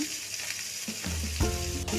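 Onion sautés gently on a low flame while being stirred in a pan for a Karnataka avarekai palya; a close, steady sizzle with spatula scrapes and a few louder stirring bursts.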